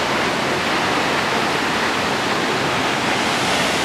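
Mill Creek Falls pour among giant boulders in a creek, a loud, steady broadband roar of falling water that holds unchanged throughout with no voices.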